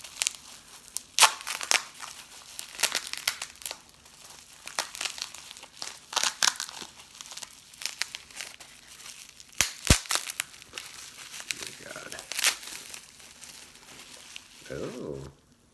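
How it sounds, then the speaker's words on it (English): Paper crinkles and tears in repeated short bursts as a sheet is worked out from under a stove, close and fairly loud, with a few sharp knocks and a voice talking over parts of it. "Still trying to get that piece of paper out from under the stove."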